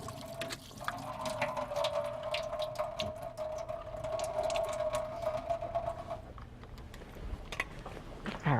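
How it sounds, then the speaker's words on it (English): Liquid drains from a can of quartered artichoke hearts into a sink, a steady trickling stream running for about six seconds before tapering off, followed by a few light clunks. "I've got 1 can of quartered artichoke hearts, and I'm just going to drain those."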